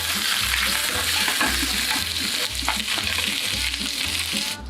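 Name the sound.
crispy duck skins frying in preheated non-stick skillet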